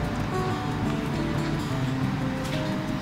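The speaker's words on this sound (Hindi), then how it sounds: "हमने इसका अपना ऑयल डाला" Cooking oil poured into a pan for a green split mung dal with eggs, a steady broadband sizzling hiss that holds evenly throughout with no pauses or talk.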